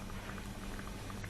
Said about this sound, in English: Our soup is here. Still bubbling and warm.